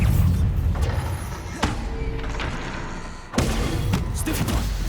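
Heavy spell blasts from Bombarda and Confringo in Hogwarts Legacy, a haunted dungeon fight: two deep booming thuds with rumbling tails, loud and close, over continuous game noise.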